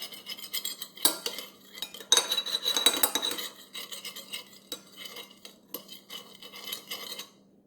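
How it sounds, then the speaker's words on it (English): A metal utensil clinks and scrapes against a bowl as salted food seasoned with black pepper is mixed for curry chicken thighs. The close, uneven scraping strokes come in bursts, with no voices. "I'm going to mix that all together"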